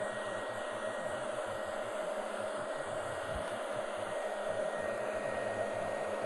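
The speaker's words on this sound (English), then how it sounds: "Look at the angle of my dryer." A handheld hair dryer blows steadily while drying a mannequin's hair, a constant close whoosh and motor whine with no break over several seconds.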